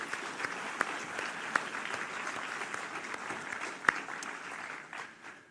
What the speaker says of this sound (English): So let's give them all a round of applause, please.